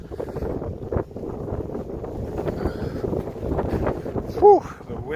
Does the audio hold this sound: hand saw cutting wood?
no